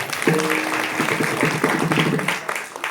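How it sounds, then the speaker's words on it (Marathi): An audience claps at a kirtan during an akhand harinam saptah, a dense, steady wash of applause lasting a few seconds, loud and close, with a harmonium-like tone and a voice faintly underneath. "अनिल महाराजांसाठी आणि आपले काकडे महाराज यांच्यासाठी जरा टाळ्या वाजवा"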